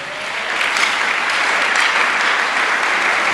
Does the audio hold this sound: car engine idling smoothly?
no